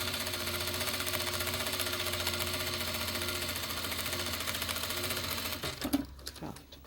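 A domestic sewing machine stitches a pouch with ordinary thread, backstitching at the start, in a steady close rattling hum that stops near the end, followed by a few handling clicks.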